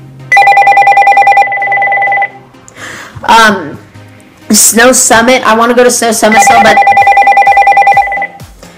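An electronic telephone ring sounds in loud, repeated bursts of rapid trilling tones, stopping while a person talks and then ringing again.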